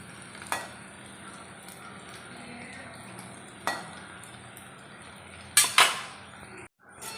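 Beef dry fry is stirred and fried in a pan, a low steady sizzle broken by several sharp clanks of a spatula against the metal, with the loudest near the end.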